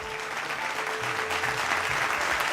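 Applause from an audience at a gala dinner, a steady wash of many hands clapping at moderate volume with a faint sustained musical tone underneath.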